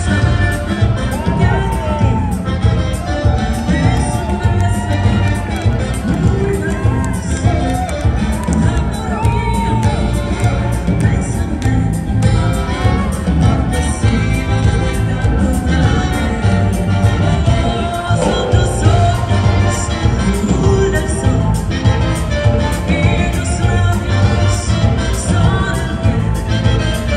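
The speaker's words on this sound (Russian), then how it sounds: "Аплодисменты для пары 723, Мария и Владимир." An audience at an amateur international Latin dance final at a Russian open dance festival claps, cheers and whoops loudly and continuously for a dance couple, a dense sustained crowd roar.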